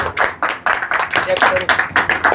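A congregation at a Christian prayer meeting in Indore claps hands in praise, with steady rhythmic claps about four per second, close and loud, and voices mixed in underneath.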